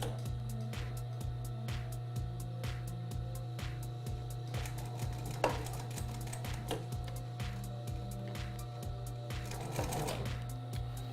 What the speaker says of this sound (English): now what I'm going to do is I'm going to do our lock stitch